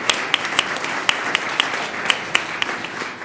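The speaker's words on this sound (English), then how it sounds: "Let's give them a round of applause." Applause and clapping from an audience at a school governing board meeting honoring students, a steady crackling patter of hands lasting throughout, moderately loud with no talk over it.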